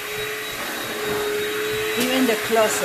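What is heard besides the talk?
vacuum cleaner vacuuming a floor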